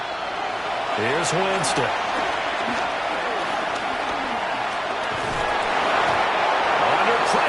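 Stadium crowd noise in the NFL video game Madden 26, a steady broad roar that swells slightly toward the end while play-by-play commentary runs over it.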